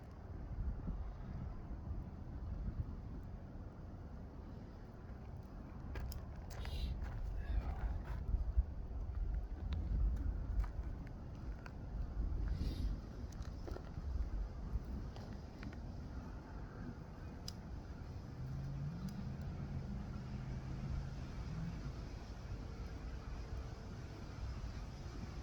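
Wind buffets outdoors beside a campfire where a pot sits, a steady low rumbling roar that fills the whole stretch with gusty swells and no speech.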